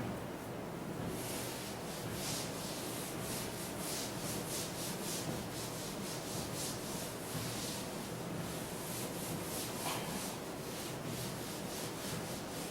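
Duster rubbed back and forth across a classroom board to erase writing, a steady run of repeated scraping strokes, close and continuous for the whole stretch with no talking.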